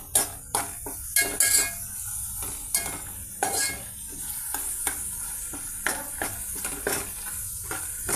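Ginger garlic paste sizzles in a pan while a spoon stirs and knocks against the metal in repeated sharp clinks. Frying hiss stays steady underneath, and no one talks.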